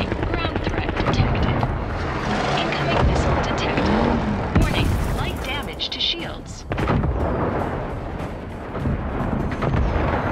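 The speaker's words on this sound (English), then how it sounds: "Watch out for the chopper!" Military helicopter flying in the CrossfireX video game, a loud continuous rotor drone mixed with gunfire, explosions and radio voices throughout.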